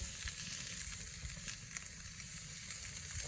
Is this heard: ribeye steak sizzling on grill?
yes